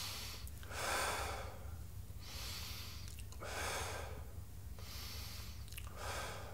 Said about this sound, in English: So I'm gonna breathe in.